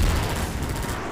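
Rapid gunfire at Combine soldiers in Half-Life 2, a dense, loud burst of shots fired in quick succession with no talking.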